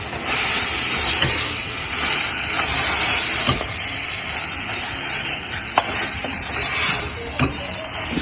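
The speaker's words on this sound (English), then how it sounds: "And then after adding everything, I will stir." Spinach and other ingredients are stirred in a hot pan, with a continuous steamy hiss and sizzle broken by scattered scrapes and knocks of the spoon.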